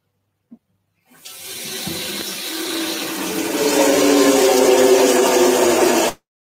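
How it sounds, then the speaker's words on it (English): Tap water runs into a large cooking pot, starting after a small clunk as a steady hiss that grows fuller and louder as the pot fills, then stops abruptly. "So I've got this massive pot here, which I'm going to put some water in."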